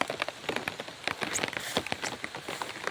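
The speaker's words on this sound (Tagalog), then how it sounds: "Umuulan dito guys ngayon. Sa Samar." Rain pattering on surfaces at a farm in Balangiga, Eastern Samar, a dense close irregular drumming of drops with no talk.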